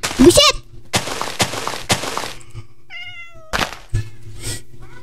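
A cat meows clearly in a few short, distinct calls, mixed with loud clatter and thumps from gameplay, and no talk can be heard in the moment.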